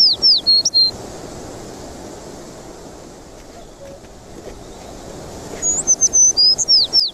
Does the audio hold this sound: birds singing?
yes